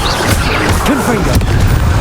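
A Confringo spell blast from Hogwarts Legacy lands as a dense, loud booming crash amid continuous battle noise, with whooshing magical swirls layered over it.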